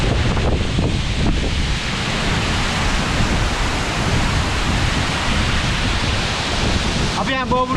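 Bomuru waterfall's rushing water roars as a loud, steady, broadband wash that runs unbroken throughout, with a brief voice surfacing near the end.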